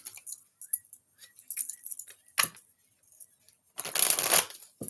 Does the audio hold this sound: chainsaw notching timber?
no